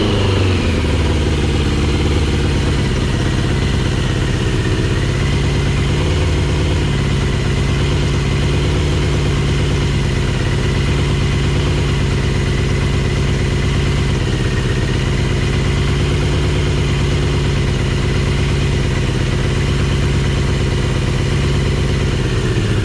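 A 1982 Yamaha XJ650 motorcycle engine idles on full choke, a steady, even, close mechanical hum that holds at a constant pace throughout with no revving and no voices.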